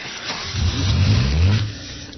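A car engine, as a radio drama sound effect, cranks into life and revs up in a short, close burst before settling back down.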